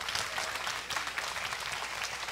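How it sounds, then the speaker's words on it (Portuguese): A church congregation applauds, a dense steady burst of clapping from many hands filling the short moment with no speech. "Pode dar um aplauso ao Senhor pela sua palavra?"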